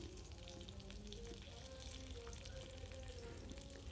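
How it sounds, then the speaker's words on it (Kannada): Onion, garlic and curry leaves frying in oil in a pan for a sprouts sambar, a continuous soft sizzle and crackle, close and steady throughout with no voices. "ಈರುಳ್ಳಿ ಮತ್ತು ಬೆಳ್ಳುಳ್ಳಿ ಆ್ಯಂಡ್ ಕರಿಬೇವು ಇದಿಷ್ಟು ಹಾಕ್ಕೊಂಡು ಒಂದು ಸ್ವಲ್ಪ ಫ್ರೈ ಮಾಡ್ಕೊಳ್ಳಿ"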